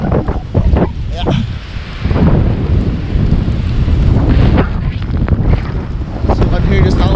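Strong wind gusts roar and buffet a microphone outdoors in a snowstorm, a loud, continuous rushing blast that surges and dips throughout with no break.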